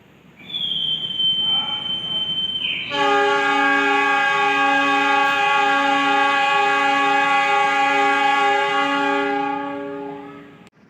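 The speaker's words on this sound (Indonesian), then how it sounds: "Baru saja kereta api Sembrani diberangkatkan dari stasiun Surabaya Pasar Turi menuju stasiun tujuan akhir stasiun Jakarta Gambir" The Sembrani train departing Surabaya Pasar Turi station bound for Jakarta Gambir, with a high squeal followed by a long, loud, steady horn blast lasting several seconds before fading out.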